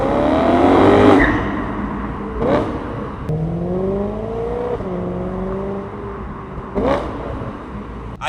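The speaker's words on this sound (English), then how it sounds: "The RPM that this thing can rev to is astronomical." A BMW M3 V8 engine revs hard several times, sweeping up to high RPM and dropping back with a smooth, rising howl, loud and close with no talking.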